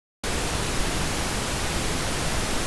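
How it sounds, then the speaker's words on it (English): Steady broadband pink noise test signal, loud and constant, beginning abruptly after a short silence and holding an even hiss with no variation. "Roughly speaking, flat like pink noise."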